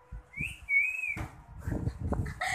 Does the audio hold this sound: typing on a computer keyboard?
no